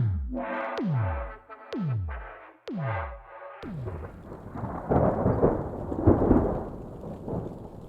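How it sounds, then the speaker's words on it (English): Several deep, falling rumbles of thunder come one after another, then give way to a steady wash of rain that swells and continues. "So enjoy the rain."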